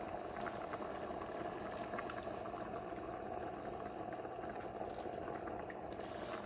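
A pot of rice for Puerto Rican-style rice with Vienna sausages bubbles and simmers in boiling water, a steady close burbling with occasional small pops and no talking.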